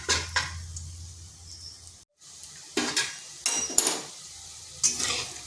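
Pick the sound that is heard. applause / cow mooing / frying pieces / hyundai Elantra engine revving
frying pieces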